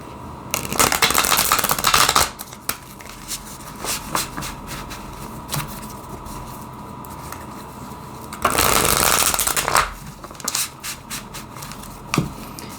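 A deck of cards is shuffled close up in two loud riffling bursts, separated by quieter handling and light tapping of the cards, with no talk.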